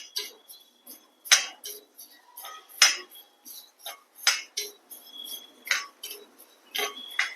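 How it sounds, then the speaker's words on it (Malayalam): Matta rice dry-roasts in an iron pan, stirred with a rhythmic run of light clinks and scrapes that repeat steadily at close range. "അതിലേക്ക് 250 ഗ്രാം മട്ടയരി ചേർത്ത് ഇത് നമുക്ക് നന്നായിട്ടത് വറുത്തെടുക്കാം"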